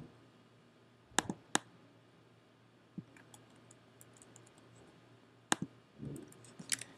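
A computer mouse clicks sharply while someone works in Adobe Photoshop, selecting and dragging a logo layer: a handful of crisp, isolated clicks, some in quick pairs, spread across a quiet room hum.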